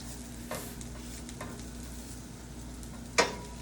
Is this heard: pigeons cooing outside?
no